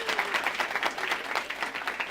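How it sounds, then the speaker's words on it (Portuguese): Studio audience applause during a Brazilian televised discussion program, a dense, steady patter of many hands clapping close by for about two seconds with no talking over it. "Uma salva de palmas para eles."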